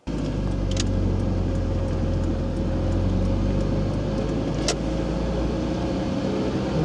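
A car drives along a road in Russia, giving a steady loud hum of engine and tyre noise throughout, with two brief faint clicks and no talking.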